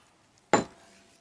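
Dry fox food of duck meat, cheese, kibble and chews rattled once in a pot outdoors, a single loud clattering burst that quickly fades.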